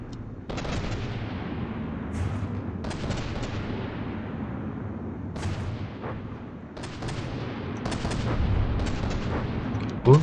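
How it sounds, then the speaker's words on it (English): The Muscovite ship's two side guns fire HESH shells in a video game naval battle, heavy booming shots at irregular intervals, roughly seven over ten seconds, each with a long rumbling tail over a steady low background. "the Muscovite is firing Hesh on these 2 side guns"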